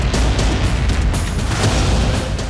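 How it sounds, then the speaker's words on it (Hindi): A bomb blast destroys an Israeli Merkava tank in Gaza, heard as a sustained, heavy rumbling roar that fills the whole stretch at high loudness, dense and boomy, with no talking. "इसके बाद एक जोरदार धमाका होता है और टैंक तबाह हो जाता है"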